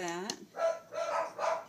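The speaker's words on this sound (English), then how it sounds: "my dogs are going crazy" Dogs bark nearby in several short, sharp bursts, fairly quiet, with a voice mixed in among them.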